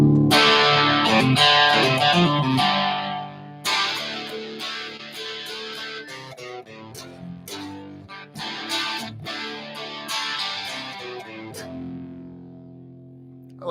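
Electric guitar played through the second channel of an Empire amp, set to a cleaner tone with light drive, ringing chords and single notes with sustained decay, loud and close, no talking.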